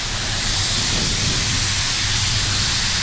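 A paint spray gun held at full trigger sprays PPG T4900 paint in a loud, continuous, even hiss that stays steady from start to end, with no talk over it.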